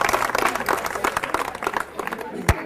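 Audience clapping at a college event in Hyderabad, cheering on a singer named Srinivas; steady dense applause with crowd noise throughout, one sharp louder clap near the end.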